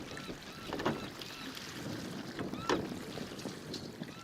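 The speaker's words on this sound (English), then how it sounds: "Now recenter the wheel to stop turning. You are sailing." A sailboat moves across the open ocean in the game Big Breezy Boat, with a steady rush of wind and water and a couple of soft swells and creaks, no voices.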